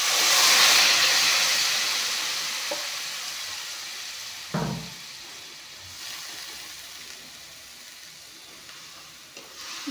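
Boiled elephant foot yam and fish heads frying in a pan give a steady sizzle and hiss that fades slightly over time, with a brief clatter of stirring midway.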